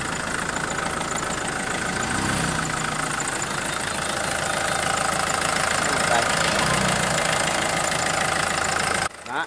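A tractor engine, one of a pair of tractors sold with a tracked tiller, idles steadily at close range with a continuous rumbling drone and knock, while voices talk over it throughout, ending with a brief drop near the close.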